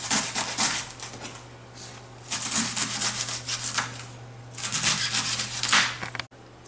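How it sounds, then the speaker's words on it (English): A knife cuts the core out of a head of cabbage for kimchi, giving repeated rough scraping, rasping strokes in three bursts over a steady low hum. "this is the core of the cabbage, so we're going to cut that part out"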